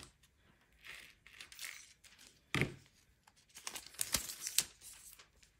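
Blue sublimation tape being torn and pressed onto a wine tumbler: quiet, scattered crinkling and short sharp tearing snaps, close and unaccompanied by speech.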